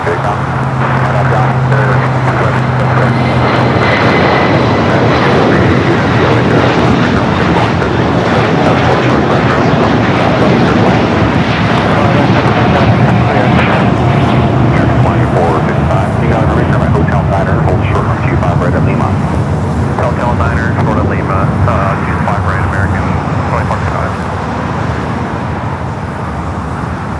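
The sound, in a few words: American Airlines A321 taking off at LAX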